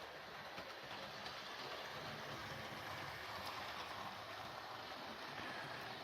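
A Hornby 4-4-0 County model locomotive runs with a quiet motor, giving a soft, steady whirring and faint rolling hiss that stay even and low in level throughout, with no voices.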